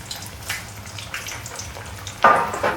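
Chicken curry puffs dropped into hot oil for Malaysian-style frying, a soft steady sizzle with a louder crackling burst as another goes in near the end.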